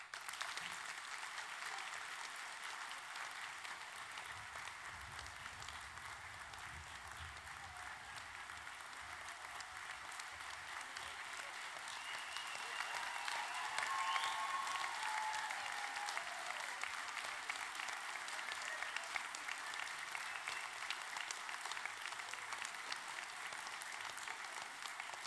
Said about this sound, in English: Lots of loud applause, but nobody's got a degree yet.